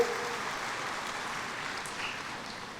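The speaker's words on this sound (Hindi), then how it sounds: "एक बार जोरदार तालियां उनके लिए" A short burst of applause from an audience welcoming a speaker at a caste census discussion, steady clapping that tapers slightly toward the end.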